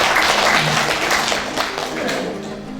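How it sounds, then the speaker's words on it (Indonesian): Students and teachers at SMP 1 Kedung, a junior high school, applaud together in a hall, a dense, steady patter of many hands that holds fairly loud throughout with some voices mixed in. "Tepuk tangan dulu kita semua."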